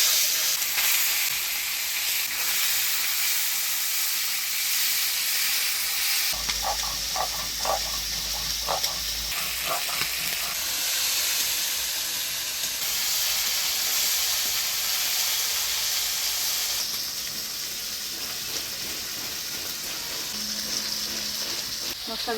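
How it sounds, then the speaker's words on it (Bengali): Small bam (eel) fish fry in hot oil in a pan for a fish curry, giving a constant, even sizzling hiss throughout, with a few brief utensil clinks partway through. "এবারে মাছগুলো ভাজা বসায় দিব।"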